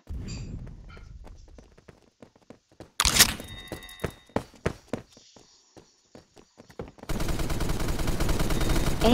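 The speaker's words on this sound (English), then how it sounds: "I got a new weapon. Pretty sure this is a shotgun, yep." Shotgun fire in the Phantom Forces video game, a series of sharp, loud single blasts spaced irregularly, with one big burst early on and a steady roar of noise taking over near the end.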